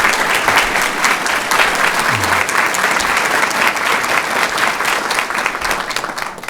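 Sustained applause from a seated audience at a formal school board meeting, greeting the new principal of Kirk Elementary School; dense, even clapping fills the whole stretch without letting up.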